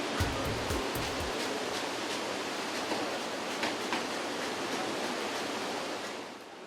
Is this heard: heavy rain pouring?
yes